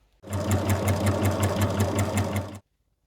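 A sewing machine stitches the skirt of a cloth doll, a fast, even mechanical whirr with rapid rhythmic needle clatter, close and loud for about two and a half seconds before stopping abruptly.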